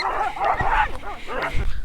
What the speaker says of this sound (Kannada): ನಾಯಿಗಳ ಸಾಮ್ರಾಜ್ಯನೇ ತುಂಬಿದೆ